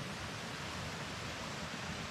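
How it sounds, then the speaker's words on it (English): Water flowing near a quiet campsite, a steady, soft broadband rush with no distinct events or voices, constant throughout. "You can hear the water."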